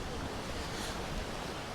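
Sea surf rolls onto Torrevieja beach in early October, a continuous broad wash of breaking water mixed with wind buffeting the microphone, steady and fairly loud throughout.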